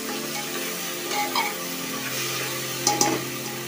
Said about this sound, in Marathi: ओल्या नारळाचं खोबरं हे आपण याच्यामध्ये घातले। ते आता व्यवस्थित मिक्स करून घेऊया।